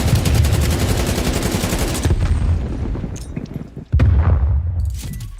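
Stun grenade blast and gunfire in a tactical shooter game: loud sustained rapid shots, a break near the two-second mark, then a sharp heavy burst of gunfire after a short lull.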